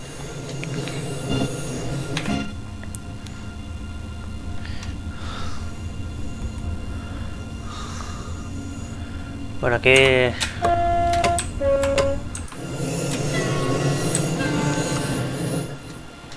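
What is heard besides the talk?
ICE2 BR406 train running, from video game Train Sim World 2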